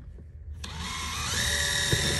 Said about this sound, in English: we're gonna go ahead and drill through a few of these